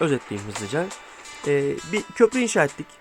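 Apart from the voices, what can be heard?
No everyday noises stand out.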